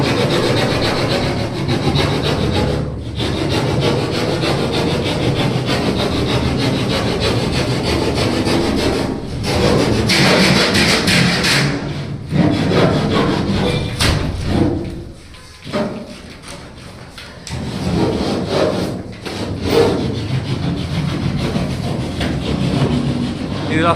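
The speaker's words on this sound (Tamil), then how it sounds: "அந்த ரூமில் ஆக்ஸாலே கட் பண்ணிட்டுருக்காங்க" A hacksaw cutting through a false ceiling channel in a room, a continuous rasping back-and-forth stroke with short pauses, loud and close over a busy background.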